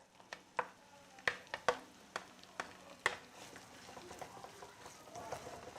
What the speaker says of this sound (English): As this is frying, we are going to add our carrots